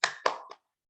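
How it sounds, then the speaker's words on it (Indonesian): Three quick claps in the tepuk semangat cheer rhythm, bright close slaps from a teacher's hands, played alone and ending in silence. "Tepuk semangat."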